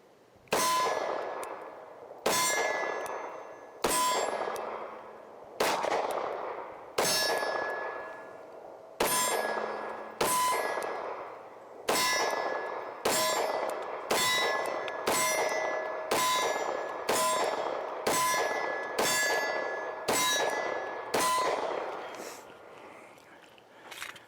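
FN 509 Edge pistol shots ring off steel targets, about fifteen sharp clangs with long metallic ringing tails, fired at a steady, unhurried pace and heard without speech.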